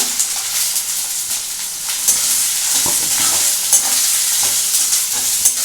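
Chopped carrot stir-fried in a hot pan for mixed fried rice, with a steady loud sizzle and repeated scraping stirs of a utensil against the pan, close up, no talking.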